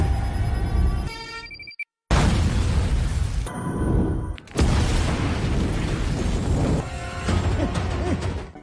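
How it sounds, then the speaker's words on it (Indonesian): Several loud booms and crashing bursts hit in succession, separated by a brief dead silence, like an explosion with debris and rumbling aftermath. "mobil yang Arif bawa langsung meledak."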